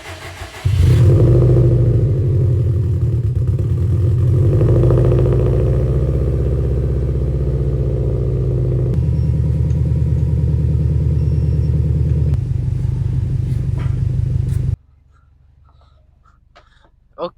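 A Subaru STI engine cranks and catches, then settles into a steady, loud idle that runs for a long stretch before cutting off abruptly near the end.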